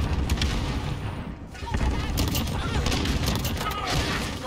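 Incendiary rounds from a Kilo 12 gauge shotgun in Modern Warfare blast repeatedly in a dense, rumbling barrage that runs through the whole stretch, with a voice talking over the gunfire.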